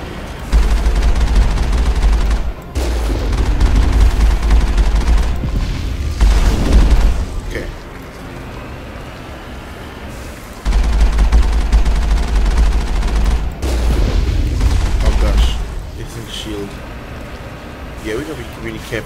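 Heavy gunfire bursts from the Mass Effect video game, loud and booming in long sustained stretches separated by a quieter pause, with a voice talking over the action.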